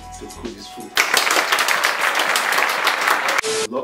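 Family members clap together at home before a New Year meal, a burst of close, lively applause lasting about two and a half seconds after a brief quiet lead-in, ending abruptly.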